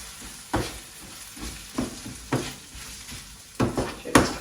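Rice sautés in butter in a pan, a low crackling sizzle punctuated by repeated scraping strokes of a spoon against the pan.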